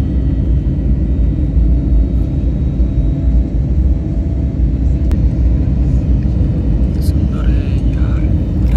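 A steady, loud airplane cabin rumble fills the space as the plane descends to land in Sharjah, a dense, unbroken engine and air roar with no pauses.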